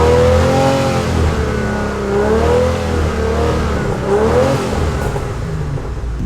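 A 1,000 horsepower car engine, a Barra-powered Mustang or RB28-powered R32, revs loud and close, rising and falling in repeated swells with a rough, vibrating tone and no talk.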